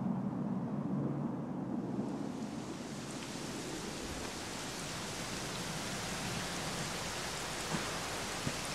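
Steady, dense rainfall hisses throughout a scene in Dragon Quest XI S, a soft continuous wash of drops on surfaces with no voices over it.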